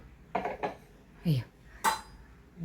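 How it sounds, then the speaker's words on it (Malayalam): A metal cooking pot is set down on a stove while preparing coconut rice, giving a few separate clanks and clinks over about two seconds, close and fairly quiet against a still room. "ഇത് ഞാൻ അടുപ്പത്ത് വെക്കട്ടെ."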